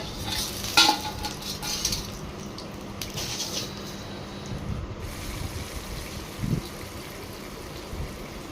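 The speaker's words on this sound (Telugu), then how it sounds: "ఇప్పుడు నేను తాలింపు వేసేస్తాను." Whole spices tempered in hot oil for a pepper rasam (miriyala rasam) give a steady, moderately loud sizzle, with a brief sharper crackle near the start and faint clinks of utensils. No one speaks.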